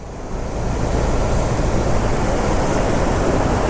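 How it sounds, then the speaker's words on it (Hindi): Bhidti waterfall on the road between Munsyari and Baijnath, a loud, constant roar of falling water that swells in the first second and then holds steady, with some wind buffeting and no voices. "भिड़ती वाटरफॉल आ गए"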